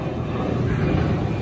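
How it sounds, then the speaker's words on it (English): A steady, low engine roar of an airplane passing overhead in rainy London, continuous and fairly loud with a broad rumbling hum throughout. "Nice plane, mate. Check that bad boy out."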